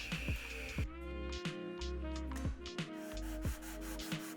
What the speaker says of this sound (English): I put a big piece of sandpaper down on a flat surface, and in this case I'm using my table saw top